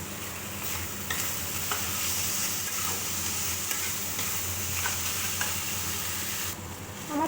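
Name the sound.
masala spices frying and being stirred in pan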